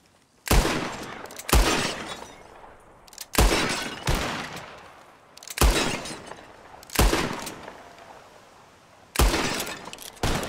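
Gunshots from Red Dead Redemption 2 crack out as seven sharp, loud single blasts spaced a second or two apart, each followed by a short echoing decay, with no talk between them.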